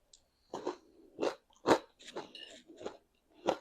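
Loud, crisp crunches from biting and chewing Trader Joe's Mandarin orange chicken, several sharp crunches close to the mic with quiet gaps between them and no talk.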